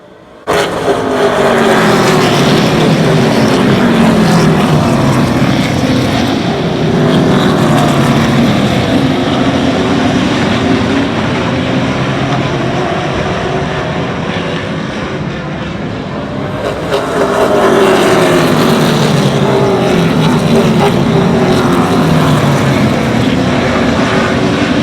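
Race cars on the Oyster Bed Speedway oval during a Maritime Pro Stock Tour race roar past continuously, loud and close, with engine noise swelling and easing as the pack comes through for another lap.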